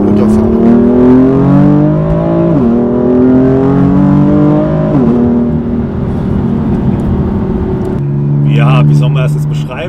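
A BMW M4 Competition with 590 PS accelerates hard, its loud engine climbing in pitch through repeated upshifts with brief dips at each change, droning inside the cabin while people talk over it.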